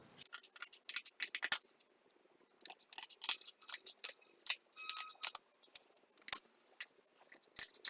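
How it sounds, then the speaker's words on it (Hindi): A paper square is cut with scissors into the seven small pieces of a tangram puzzle: quick, close, crisp snips come in bursts separated by short pauses, with no voices. "अब ये बनाने के बाद इस वर्ग को इस डिजाइन के हिसाब से छोटे टुकड़ों में काट लेते हैं"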